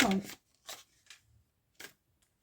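Oracle cards being shuffled and cut by hand: a few short, soft riffling and slapping bursts separated by quiet gaps, close and fairly faint.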